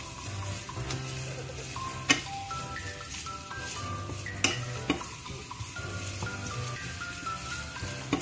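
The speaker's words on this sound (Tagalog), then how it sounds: "Igisa ang sibuyas at make sure na naka-on ng kalan." Onions sautéing in hot oil in a pan, a steady close sizzle broken by occasional sharp clicks and scrapes of a utensil over a low stove hum.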